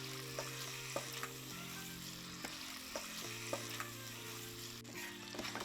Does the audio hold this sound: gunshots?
no